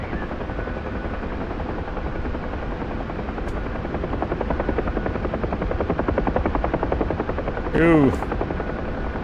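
A UH-1 Huey helicopter in the DCS World flight simulator drones with a steady rhythmic rotor thump and turbine whine throughout, loud and continuous, while a voice briefly exclaims near the end.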